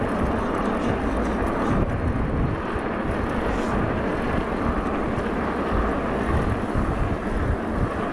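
Steady wind on a coastal path buffets the microphone with a constant low rumble and broad rushing noise, unbroken for eight seconds, with no talking.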